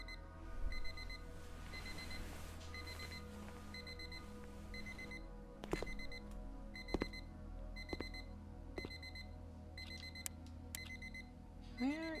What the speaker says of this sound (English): Where is our alarm clock?